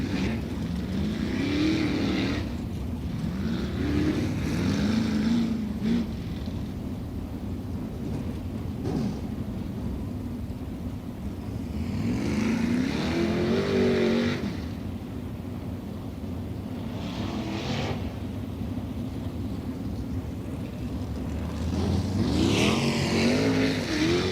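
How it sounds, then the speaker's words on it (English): Dirt track race cars roar around Volusia Speedway in Florida, a loud continuous engine drone with rising and falling passes as cars sweep by, heavy and rumbling throughout. "So cars will start making their way back down into the infield here momentarily."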